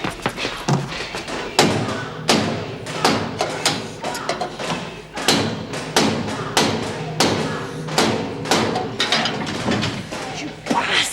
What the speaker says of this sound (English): Sounds like another riot.